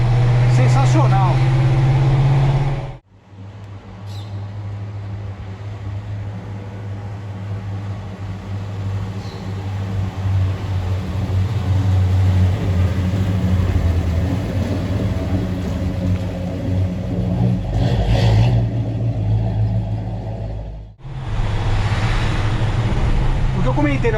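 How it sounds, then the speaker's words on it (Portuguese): A 1978 Ford F-100 pickup with a 292 Y-block V8 and Flowmaster exhaust rumbles with a deep, steady low burble that cuts out briefly twice, while someone talks over it. "O ronco desse motor em Y, ele é diferente, mas é um ronco bacana de ouvir também"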